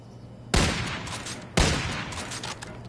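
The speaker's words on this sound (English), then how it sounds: "I don't know why I'm shooting." Two sharp, loud gunshots crack about a second apart in Call of Duty: Infinite Warfare, each trailing off into a short rumbling decay, with no talk.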